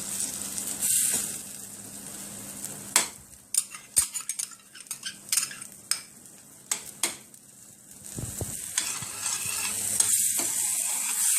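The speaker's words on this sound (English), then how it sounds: "you keep stirring this around so the vegetables can cook a little" Vegetables stirred in a frying pan for a chicken luncheon meat dish, with a steady sizzle under scraping, clinking utensil strokes against the pan that come in irregular bursts, close and moderately loud.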